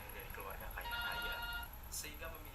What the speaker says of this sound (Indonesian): HP Salma berbunyi